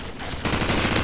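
Rapid automatic gunfire from the video game Call of Duty, a quieter stretch giving way to a dense run of closely spaced shots that carries on loudly to the end.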